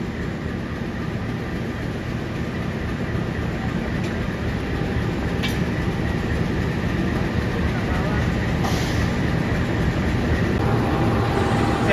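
Pangrango passenger train standing at Bogor station while passengers from Sukabumi get off, giving a steady, loud idling rumble with faint station background and occasional brief higher hisses.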